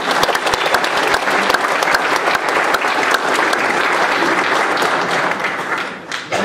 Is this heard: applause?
yes